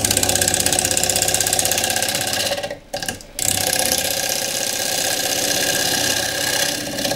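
Wood lathe spinning at about 1200 rpm while a 3/8 deep fluted bowl gouge cuts a remounted roughed bowl, a loud steady rough cutting noise that breaks off briefly partway through and then resumes.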